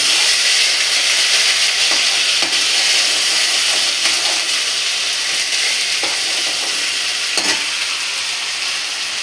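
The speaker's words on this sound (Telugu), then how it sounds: "రెడ్ కలర్ వచ్చే వరకు వేయించుకోవాలండి." Masala spices frying in a pan for an egg (anda) masala curry: a steady, loud, close sizzle and hiss with a few faint stirring scrapes, and no voices.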